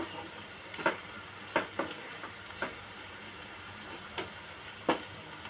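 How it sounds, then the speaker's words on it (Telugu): Onions sizzling in a pan while being cooked for a spicy chicken curry, a steady soft frying hiss broken by occasional sharper stirring scrapes and pops at irregular intervals. "ఆనియన్ ఆల్మోస్ట్ వేగిపోయాయి."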